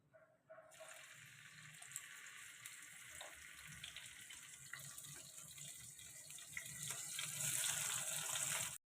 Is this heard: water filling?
yes